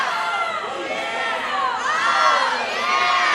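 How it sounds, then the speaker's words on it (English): A crowd roars and cheers at a boys' swim and dive sectional preliminary meet, a dense sustained wall of shouting and young voices echoing in an indoor pool, loud and continuous throughout. "you gotta love the cheering."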